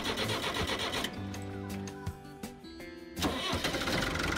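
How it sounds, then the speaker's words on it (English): A White 2-60 Field Boss farm tractor engine cranks and runs with a steady, fairly quiet mid-pitched mechanical drone, its tone shifting briefly partway through before settling back into a continuous idle. "run the tractor for just a second"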